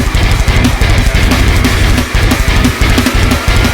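Loud, dense heavy metal made with virtual instruments, with pounding rapid kick drums and thick distorted guitars driving a steady, aggressive rhythm.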